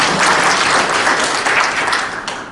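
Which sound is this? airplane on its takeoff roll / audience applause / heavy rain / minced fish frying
audience applause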